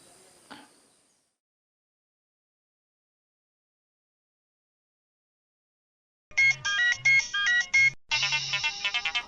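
After a long silence, an electronic phone ringtone starts playing a bright repeating melody, close and clear, with a short gap between phrases.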